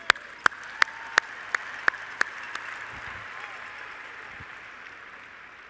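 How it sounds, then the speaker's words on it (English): At a large national FFA convention opening session, about eight sharp, evenly spaced hand claps ring out in a big hall, each crisp and close, tapering off into quiet room tone. "Let's get one huge round of applause for Merck Animal Health for their generous sponsorship."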